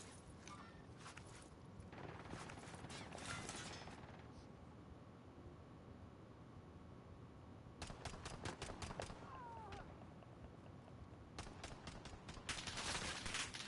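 Repeated bursts of automatic gunfire in Warzone on Rebirth Island crackle in quick clusters, some near and loud, others farther, amid a constant game background rumble.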